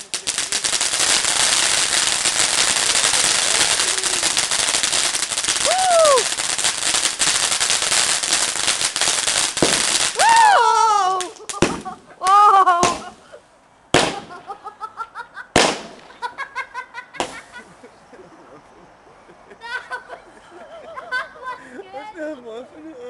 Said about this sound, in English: Lots of fireworks exploding right out of that thing.